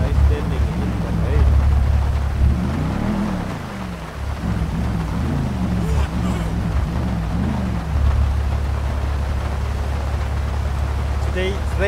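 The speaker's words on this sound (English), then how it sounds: "Today it's raining in Los Santos." Steady rain in Los Santos during a police patrol in GTA 5, a continuous broadband hiss running under a low engine rumble throughout, with someone talking over it for much of the time.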